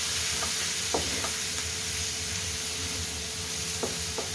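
Onion, green chilies and spices frying in a pan for a mung bean and chicken curry, a steady close sizzle with a few faint stirring knocks scattered through it.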